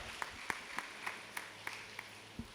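An audience at a cultural stage event in Palakkad claps for a folk artist: faint, sparse claps at a steady pace, quiet and distant over low background hum.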